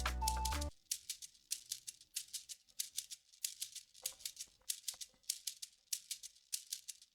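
Afrobeat shaker pattern with a rapid, even stream of crisp, hissy shakes, bright and close, repeating in a tight groove after a brief tail of a louder sound fades at the start.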